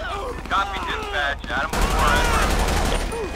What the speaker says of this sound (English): Okay, shots fired, dispatch, shots fired.